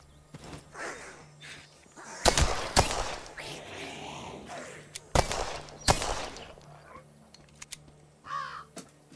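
Gunfire rings out in the zombie video game Last Stand: Aftermath: two loud, sharp bursts of shots a few seconds apart, set against quieter ambient game noise and footsteps.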